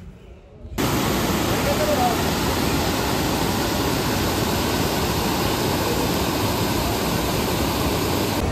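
After a brief quiet moment, the loud, steady rushing roar of Balmuri Falls near Mysuru sets in and continues unbroken, filling the whole soundscape.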